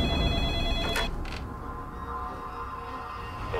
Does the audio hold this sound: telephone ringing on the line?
yes